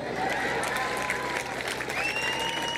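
Moderate applause from a crowd at a lively gathering in Guerrero, a steady clapping texture at medium distance with faint tonal whistles or squeaks above it and no clear speech.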